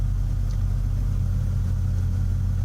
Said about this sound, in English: Probably the last time this engine runs.